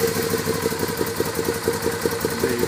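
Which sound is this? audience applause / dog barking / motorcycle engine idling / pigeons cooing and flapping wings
motorcycle engine idling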